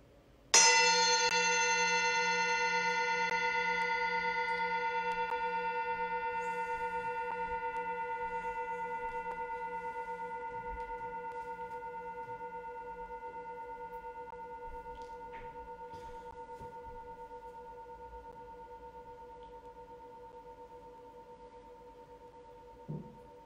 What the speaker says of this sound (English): when you don't hear the bell anymore